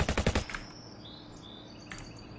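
Gunshots in a neighborhood, a rapid burst of about six sharp cracks fired in quick succession, then quiet with faint birdsong and a lone distant pop near the end.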